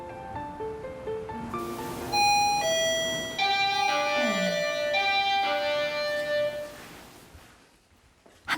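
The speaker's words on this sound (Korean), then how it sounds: "한가로운 주말 아침, 초인종 소리가 정막을 깨웁니다." A home doorbell chimes on a quiet weekend morning, ringing a loud, clear melodic run of bell tones that overlap and ring out, then fade, with no talking.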